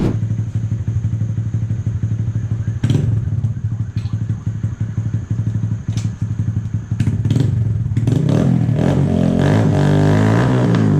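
A Honda Grom 125 motorcycle with a cheap aftermarket Amazon exhaust rides around a yard, its small single-cylinder engine burbling steadily at close range, with occasional thumps and rattles, then revving harder and rising in pitch near the end.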